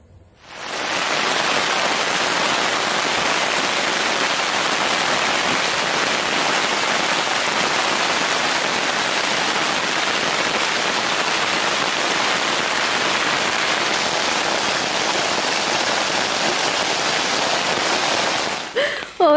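Steady rain falls at a lakeside in Wohlensee at night, a dense, even hiss that holds constant and fairly loud for the whole stretch with no talking over it.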